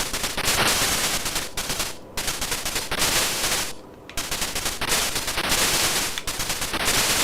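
Rapid machine-gun fire from the ZX Spectrum game Line of Fire, loud dense bursts of chiptune shots running almost continuously with brief pauses, no talk.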